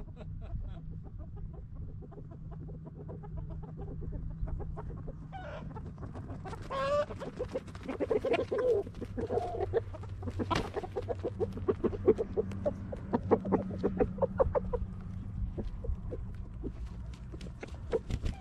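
Backyard chickens cluck in a steady, busy chatter close by, with scattered sharp calls and some pecking sounds building after the first few seconds.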